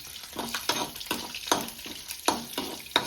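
Green chillies fried in hot oil for shavige uppittu give a steady close sizzle, with a spoon scraping and stirring the pan in roughly regular strokes.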